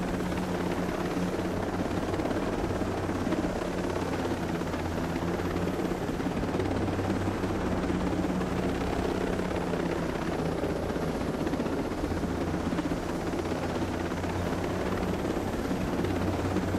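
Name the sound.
helicopter flying in video game Ghost Recon Breakpoint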